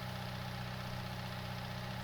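Puma tractor engine in Farming Simulator 19 idling steadily with a low, even mechanical drone, close and constant throughout with no talk.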